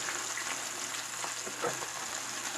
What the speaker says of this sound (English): I add the mix to the sausage, like that. Kind of let it get all that grease and everything all picked up there.